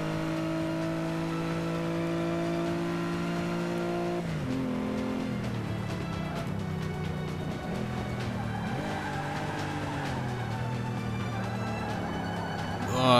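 Race car engine in Forza Motorsport 5 revving hard through gear changes, with tire squeal and skidding as the car slides, loud and continuous with no voice over it.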